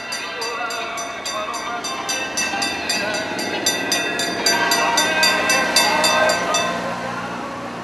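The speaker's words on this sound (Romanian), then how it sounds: "a fost adus aici și un trenuleț care îi plimbă pe turiști prin stațiune" A small tourist train runs through the spa resort of Vața Băi, giving a steady rhythmic clatter over a continuous mechanical hum, moderately close and fairly loud throughout.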